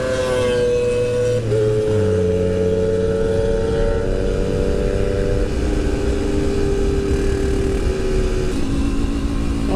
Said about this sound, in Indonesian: Motor kencang lewat.